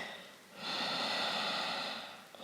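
One long, audible exhale during a yoga practice for strength and flexibility, a close breathy hiss that rises, holds for well over a second and then fades.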